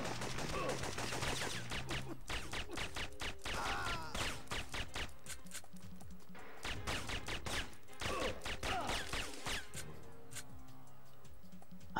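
Gunfire in the PS1 game Syphon Filter, with bursts of sharp shots and rapid clicking ticks in repeated clusters across the span, fairly loud and up close, with no talking.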